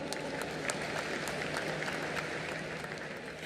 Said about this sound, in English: A huge round of applause for Nadav Lapid, everybody.